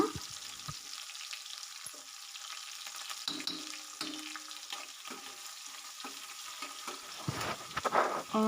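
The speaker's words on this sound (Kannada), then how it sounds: "ಈರುಳ್ಳಿನ ಹಾಕ್ಕೊಳ್ತಾ ಇದ್ದೀನಿ ಈಗ ಇದಿಷ್ಟು ಫ್ರೈ ಮಾಡ್ಕೊಳ್ಳೋಣ" Chopped onion and curry leaves fry in a pan with a soft steady sizzle, broken by scraping stir strokes that grow busier toward the end, close and alone without talk.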